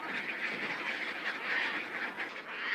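A colony of Caspian terns in the Selenga delta raising alarm calls, a dense continuous chorus of harsh overlapping cries from many birds, steady and fairly loud throughout.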